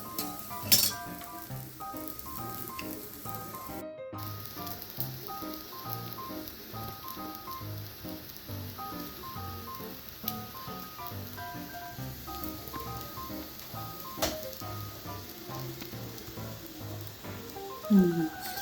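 Mango holige flatbread frying in oil on a pan, a steady soft sizzle running throughout with occasional light clinks of a utensil, fairly quiet and close.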